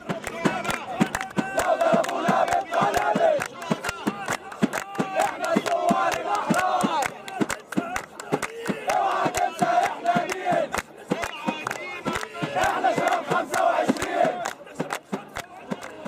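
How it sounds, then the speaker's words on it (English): A large crowd at the Tahrir Square sit-in in Cairo chants in loud rhythmic bursts led by a group from Suez, with voices repeating call-and-response phrases over steady clapping and background commotion. "Protests meanwhile continue at the campsite, with a group of Suez leading these chants."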